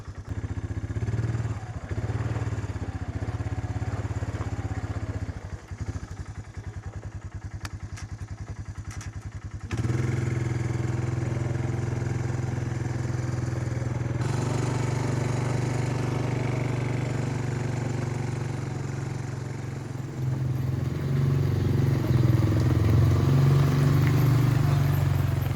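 A small engine runs steadily after finally starting, a loud and close chugging drone that holds for the whole stretch, its tone shifting slightly at points as the load or gear changes.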